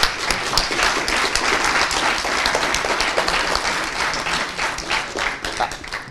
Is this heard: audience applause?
yes